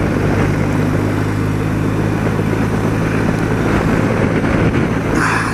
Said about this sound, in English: the gusting high winds